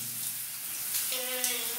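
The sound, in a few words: shower water running during children's bath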